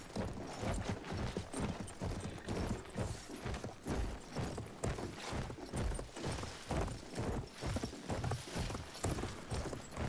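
Horse hooves gallop in Battlefield 1 as a rider heads cross-country, a steady rapid clip-clop running the whole way, close and fairly loud, with no talking.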